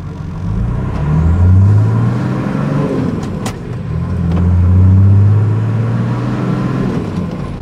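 A car engine with a new exhaust idles with a deep, throaty rumble, rising in two slow revs and easing back down, close by and steady.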